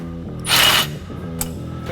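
A power tool removes a bolt on a 2020-2026 Polaris RZR Pro XP, starting with a low motor hum, then a loud burst of whirring ratchet noise, then a short sharp click before the hum returns.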